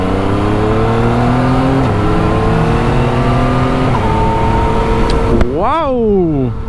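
Motorcycle, fully stock, accelerating hard near the mic with a steady high engine drone, two quick upshifts by electronic quickshifter leaving brief pitch drops, then a fast rise and fall of revs toward the end.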